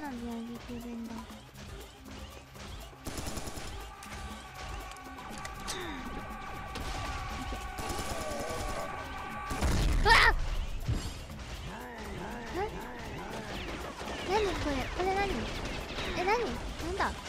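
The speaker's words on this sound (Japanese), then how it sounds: "花火になってる。 どっかで花火あげてるんだ。" Sharp bangs and crackling bursts of fireworks pop repeatedly at close range, mixed with game sounds and an excited voice.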